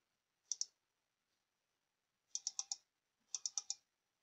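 Computer mouse clicks while setting preferences in a Debian Linux desktop: a quick double click, then two bursts of four rapid clicks each, close and crisp against silence.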